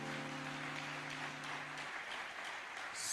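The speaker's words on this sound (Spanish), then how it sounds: "Un aplauso a nuestro Señor Jesucristo." Church congregation applauding during an evening worship service, a steady wash of clapping that continues alone after a held tone fades out partway through.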